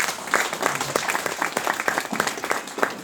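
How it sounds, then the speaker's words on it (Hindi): Audience clapping at a business seminar in Hyderabad, a dense, even wash of applause from a seated crowd lasting a few seconds, fairly loud and close. "आप ताली बजा सकते हैं।"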